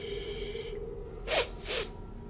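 A voice imitates sniffing during a tabletop roleplaying session, two short, sharp nasal sniffs close up after a faint held tone.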